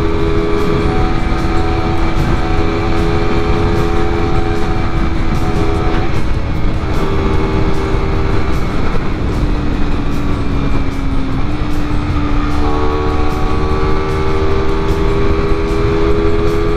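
Honda CBR250RR motorcycle on a dry road roars loudly and steadily up close, its engine pitch rising and shifting as it overtakes a CB motorbike, with no talk.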